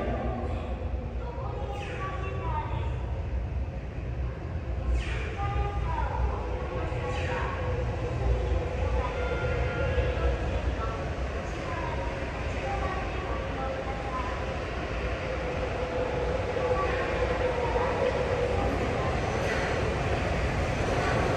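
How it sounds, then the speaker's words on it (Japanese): A subway train bound for Makomanai arrives at Asabu Station's platform 1, a steady, moderately loud rumble that continues throughout, while a Japanese platform announcement plays over it. "まもなく1番ホームに真駒台行きが到着します。"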